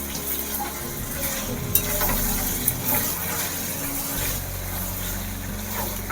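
Chicken and potatoes with spices sauté in a pan, giving a constant close sizzle with a low rumbling undertone and a couple of sharp utensil clicks as they are stirred.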